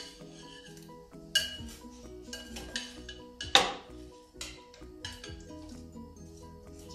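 Chicken wings tossed and stirred in sauce in a metal bowl, with repeated scraping, clinking utensil strokes and a few sharper knocks, close and fairly quiet, no talk.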